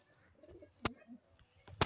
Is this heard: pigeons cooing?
yes